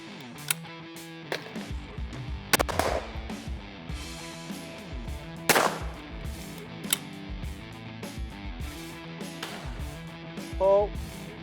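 Several sharp shotgun reports from a Beretta 694 ring out at irregular intervals outdoors, each a loud crack with a brief decay, amid background voices and music.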